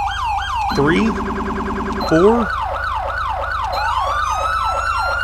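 Electronic police car sirens from an ELS mod in Grand Theft Auto V, a rapid yelp cycling into a steady wail, switching patterns a few times, loud and continuous, with a voice briefly counting over it.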